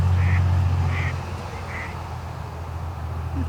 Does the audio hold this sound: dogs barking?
no